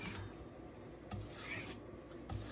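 A knife is drawn across a Norton Crystolon double-sided oilstone, making faint, close rasping strokes that repeat about every second against a quiet background.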